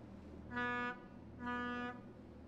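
A boat horn in the video game Bridge It sounds two steady tonal honks of about half a second each, evenly spaced, fairly quiet over a low ambient hum with no talking.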